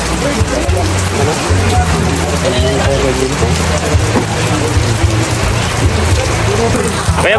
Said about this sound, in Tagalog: Mas lumakas naman ang ulan